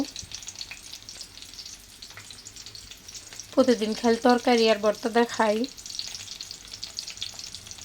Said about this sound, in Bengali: আজকে হেজিনতে মাছ ভেজে নিলাম।